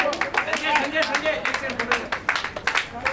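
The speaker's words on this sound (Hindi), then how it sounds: "ये तालियां रुकनी नहीं चाहिए" An audience claps at a welcome gathering, a dense patter of hand claps that rises and falls at moderate loudness, with voices talking and calling out over it.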